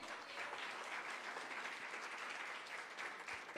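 Congregation applause fills a church service, a dense steady clapping that holds for a few seconds with no voices over it.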